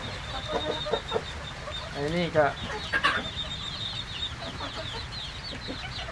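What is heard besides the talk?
laying hens clucking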